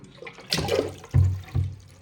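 Water splashes and gurgles as it is poured into a tub holding new clay pots, in a few short bursts with brief pauses between them.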